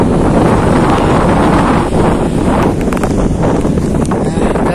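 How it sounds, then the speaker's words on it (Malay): Strong morning wind at sea buffets the microphone during a fishing trip, a loud, constant roar with gusty surges and a faint wash of water beneath. "belum apa-apa udah disambut dengan angin kencang"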